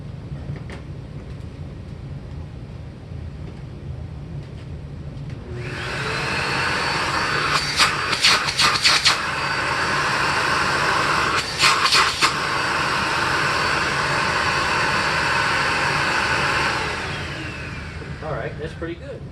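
A rare SEBO vacuum cleaner switches on and runs with a loud, steady whine for around twelve seconds, with brief bumps and rattles midway, then spins down over a constant low background hum.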